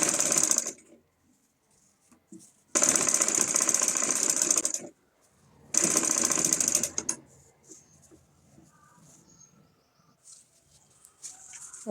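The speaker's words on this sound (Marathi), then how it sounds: "तर त्या सगळ्या पाकळ्या आपल्याला अशा एकसारख्या शिवून घ्यायच्या आहेत आधी" Sewing machine stitching fabric petals for a lotus-shaped seat cushion, running in two loud sustained bursts of about two and three seconds each, with a brief start at the opening and quiet handling noises between runs.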